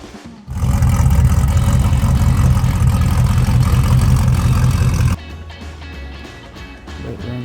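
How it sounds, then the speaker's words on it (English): A 1984 square-body Chevy truck engine idles loudly and steadily nearby with a deep low rumble, then drops to a quieter, rougher idle for the last couple of seconds. "This truck sounds pretty tough."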